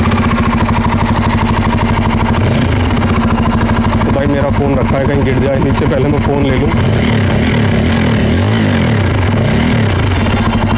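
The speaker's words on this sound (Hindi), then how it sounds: "काफ़ी सही साउंड करती है बाइक, एक बार मैं स्टार्ट करके अभी दिखा दूँगा बाइक को" Bajaj Pulsar N250 motorcycle idling and running close to the microphone, a loud steady low thrum throughout, while someone talks over it.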